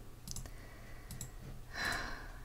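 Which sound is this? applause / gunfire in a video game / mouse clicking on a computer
mouse clicking on a computer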